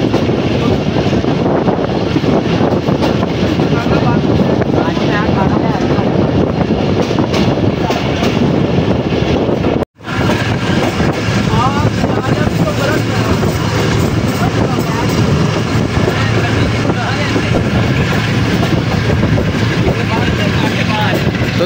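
The Pak Business Express passenger train, led by a ZCU 30 locomotive, rolls past in Pakistan with a loud, continuous rumble and clatter of wheels on rail, broken once by a momentary dropout.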